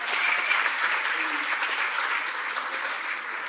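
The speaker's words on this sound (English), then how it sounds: "So can we have a round of applause" A conference audience applauds steadily throughout, a dense wash of clapping at even loudness with no voices over it.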